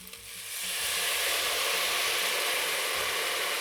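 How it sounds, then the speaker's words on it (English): Mushrooms in a hot pan deglazed with mirin, Japanese sweet wine, burst into a loud, sustained sizzle that swells within the first second and hisses steadily to the end. "we deglass the pan, mopping up all the burn bits with a bit of mirin"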